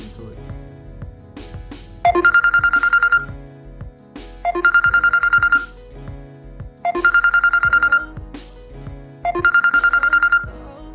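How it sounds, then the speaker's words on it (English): Ringtone alert triggered on a phone by a credit card tracker, a loud repeating electronic melody in four short bursts about every two and a half seconds, with a softer musical background between them. "the volume up on this ringtone is gonna be so loud"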